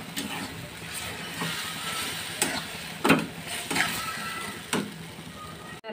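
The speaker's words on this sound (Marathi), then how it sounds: "हे आपण थोडंसं फ्राय करूया" Maggi noodles with a little coriander frying in a pan, a steady close sizzle with a few louder stirring scrapes and clinks throughout.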